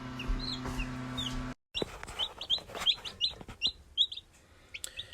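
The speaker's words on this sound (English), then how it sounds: "So, yeah, we got some chicks." Newly hatched chicks in a brooder give repeated high, bright peeps close by, with a steady low hum underneath at first, then a string of rhythmic chirps and soft clucks.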